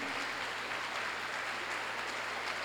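Steady applause from a church congregation, a dense wash of clapping that holds evenly throughout, moderately distant with no one speaking.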